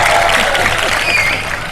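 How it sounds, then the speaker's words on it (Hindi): Studio audience on a Pakistani television show bursts into loud, dense applause, a continuous wash of clapping from a close crowd. "रूफी भाई के लिए बहुत सारी तालियां हैं।"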